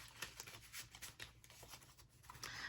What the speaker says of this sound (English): let's go ahead and start shuffling here